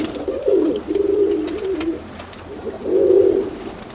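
Amritsari pigeons, domestic fancy breeds, give soft throaty coos in two drawn-out phrases separated by a brief pause, close by over a quiet background.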